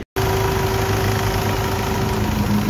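A secondhand automatic Mahindra Scorpio diesel engine idles steadily after a brief silence, a loud, even low rumble with a constant hum and no speech over it.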